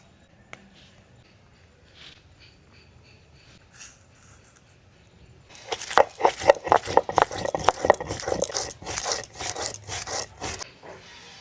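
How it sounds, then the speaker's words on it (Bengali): Cumin, ginger and green chilli are ground together into a spice paste on a stone, with quiet scattered knocks giving way to loud, rapid rhythmic scraping and rubbing strokes that continue to the end. "শুধু একটু জিরা আর আদা কাঁচা লঙ্কা একসঙ্গে বেটে নেব।"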